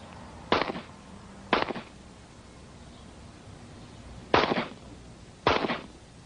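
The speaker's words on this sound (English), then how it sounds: "At target practice, his alter personalities take turns shooting." Four gunshots crack out at target practice, sharp and loud with short echoing tails, spaced unevenly across the stretch with a quiet outdoor background between them and no voices.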